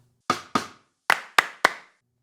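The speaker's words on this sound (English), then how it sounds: "just put in a clap and a rim shot to kind of just give it a little a flair" Sampled drum clap and rim shot hits from Addictive Drums in an R&B beat ring out alone: two sharp claps, a pause, then three crisp snappy hits, each decaying quickly into silence.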